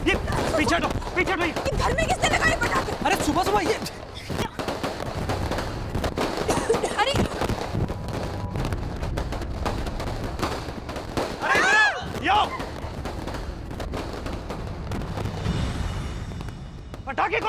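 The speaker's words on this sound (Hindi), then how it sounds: "पटाखे कौन फोड़ रहा है?" Sharp bangs of firecrackers bursting indoors at a house in the morning, in irregular clusters, mixed with people talking and shouting throughout.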